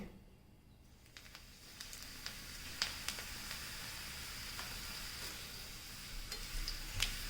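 Bitter gourd fries in hot oil in an iron pan, producing a faint, steady sizzle with occasional small pops and crackles, close and without talking.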